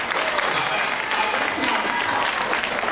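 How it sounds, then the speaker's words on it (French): Dense crowd applause in a church service honoring an interpreter, a thick continuous roar of clapping with voices mixed in underneath. "Applaudissez pour lui, c'est un excellent interprète."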